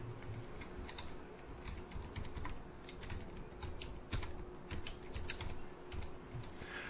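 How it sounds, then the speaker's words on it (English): Fingers tap a computer keyboard in quick irregular bursts of soft, close clicks, quiet against a faint steady background hum, with no talking. "And then type in the actual name, the name that we're going to use, closing costs payable."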